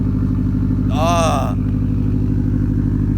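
Car engine after a Pro Tune, a loud steady droning idle with a brief rising rev in the middle, close by, with a voice talking over it.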